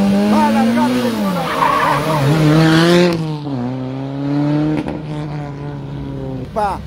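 Rally car number 610, a Peruvian entry, launches from the stage start at Rally Pisco 2024 with a loud, close engine rev and tire squeal, the pitch climbing through gear changes as it pulls away, a commentator talking over it.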